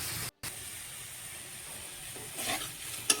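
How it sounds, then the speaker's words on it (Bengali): Spice paste of cumin, coriander, tomato and green chili fries with carrots in a pan, giving a steady close sizzle and hiss that swells briefly near the end, with no talk. "গাজর আর মশলার সাথে ভালো করে ভেজে নিব"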